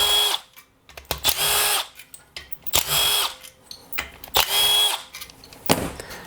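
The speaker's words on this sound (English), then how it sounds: "So to get the stator off, you'll need a 1/4 inch socket." A power drill with a 1/4 inch socket spins bolts out of a blown-up John Deere lawn tractor engine's stator, giving four loud close whirring bursts in a steady on-off rhythm with clanks between them.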